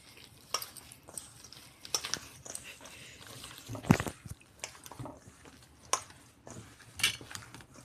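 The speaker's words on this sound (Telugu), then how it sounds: "ఇగో మొత్తం చల్లతోనే కలుపుకున్నా." Rice flour dough being mixed by hand with buttermilk for salla pusa, a loose batter: faint, sporadic wet squelches and soft slaps, close and quiet, with a few sharper knocks against the vessel.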